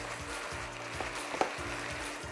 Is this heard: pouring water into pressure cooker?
no